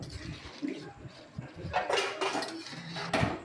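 Chicken leg curry stirred in a pot, a spoon knocking and scraping against the metal with clinks, loudest in bursts near the end, with no talk.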